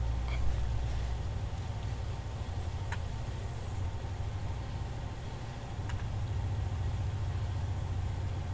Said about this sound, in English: Alright, good engine start.